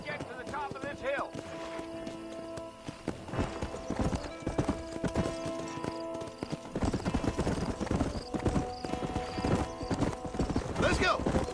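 Hooves gallop in a fast, continuous rhythm in Red Dead Redemption, loud and close, with a horse whinnying near the start and voices speaking over the hoofbeats.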